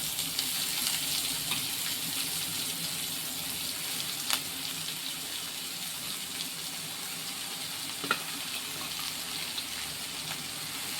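Chopped spinach greens fry steadily in oil in a pan with dried red chillies and a little onion, a continuous close sizzle with a couple of faint clicks from stirring.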